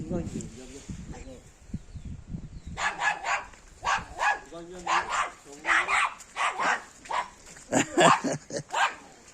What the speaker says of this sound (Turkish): Şu köpek Necdet'i ısırır mı acaba?